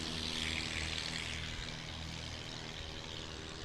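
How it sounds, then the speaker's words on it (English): Sport Cub light aircraft taking off from Chadwick at a STOL practice in Creswell, Oregon, a steady propeller engine drone at fairly low level, holding constant for a few seconds with no voices. "Sport Cub. And here we go. Nice, great takeoff from Chadwick."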